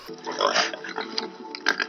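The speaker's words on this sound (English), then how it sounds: "Here's that little snippet of the real life part of pigs breaking out." Pigs breaking out on a farm grunt and squeal close by in a busy, uneven stream of snorts and oinks, with some light outdoor commotion behind them.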